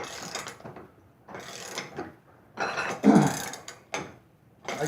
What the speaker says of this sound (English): the way in with the socket wrench. I don't have to switch wrenches